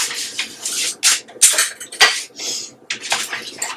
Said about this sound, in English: I'm gonna grab a little bowl because I'm gonna put them all in there